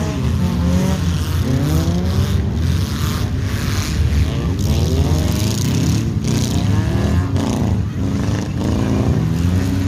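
Race cars circle an oval in the Winter Blast 100 winter enduro, their engines roaring loudly with rising and falling pitch sweeps as cars pass close in a pack. The engine noise is continuous, and a commentator talks over it.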